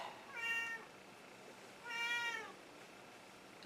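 A house cat meows twice, a drawn-out plaintive call followed by a second, slightly longer one after a short pause, close and clear against quiet room tone.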